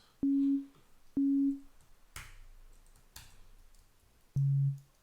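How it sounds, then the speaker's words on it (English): Short synthetic tom drum hits from Ableton's Operator synth with a clicky attack and a low, pitched body, three sharp tones separated by softer thuds, in a sparse, quiet setting. "Let's go for a tom sound."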